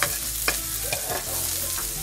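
Garlic and then onion frying in a pan, a constant loud sizzle broken by a few sharp stirring scrapes and clinks.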